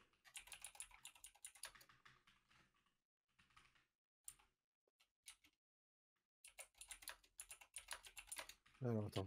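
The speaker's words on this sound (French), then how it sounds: "Que des bruits de clavier, hein." Computer keyboard typing in bursts of rapid clicking keystrokes, close by, with a pause in the middle and a brief voice sound at the very end.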